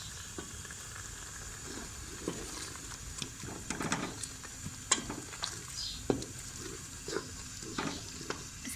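Green chillies and ginger stirred into chicken haleem in a pot make a soft bubbling sizzle, with scattered scraping taps from the spoon growing busier in the second half, heard alone without talk.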